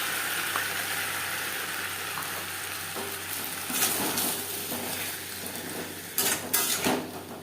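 Potatoes frying in a pan with a spice paste of green chilli and ginger, a steady sizzle under clinks and scrapes of a utensil, with louder bursts toward the end as the mixture is worked.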